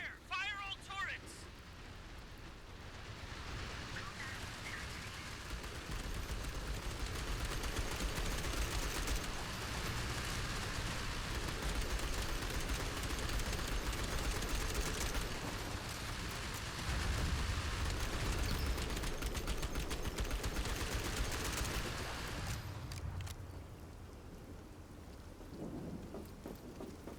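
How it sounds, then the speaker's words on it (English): Heavy turret gunfire in a video game rolls on as a dense, loud, continuous barrage for most of the stretch, then eases off near the end, with a voice shouting over the start. "Fire! Fire all turrets!"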